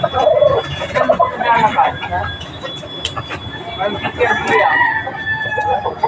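A rooster brought to an outdoor gathering crows in loud, nearby calls over a busy background, with people talking throughout.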